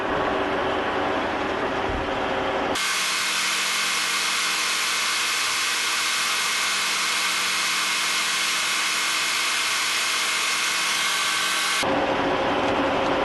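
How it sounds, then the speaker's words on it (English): Long extra-length number 46 drill bit boring slowly through metal at a slow feed rate, a steady loud grinding whir that starts abruptly, holds constant for about nine seconds and then cuts off, with machine noise before and after. "We're drilling this at about 1 inch per minute."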